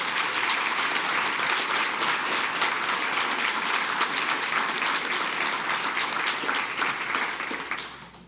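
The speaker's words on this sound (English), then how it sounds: "Please join me in giving her another strong round of applause" At a Deputy Governor's awards ceremony, an audience gives a civil service honoree a strong round of applause, thick sustained clapping that holds level and then fades out near the end.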